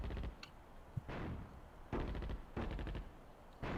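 Artillery units firing in the strategy game Attack at Dawn: North Africa, several sharp booming shots in separate bursts with brief quiet gaps, moderately loud and close.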